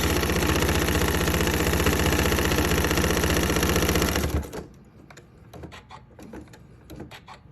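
A sewing machine runs steadily, stitching a quarter-inch seam on a fabric hanger cover, loud and close for about four seconds before stopping; faint handling clicks and rustles follow in the quiet afterward.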